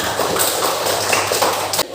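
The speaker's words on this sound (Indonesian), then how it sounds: "Tepuk tangan dulu kita semua" A class of students claps their hands together in an Indonesian-language lesson, with a brief burst of dense, close clapping that stops abruptly near the end.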